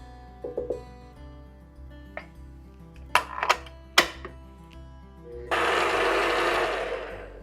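Oatmeal chocolate chip cookie dough ingredients being mixed, with a few clinks and knocks of utensils against a bowl, then an electric mixer starts up and whirs loudly and steadily to the end.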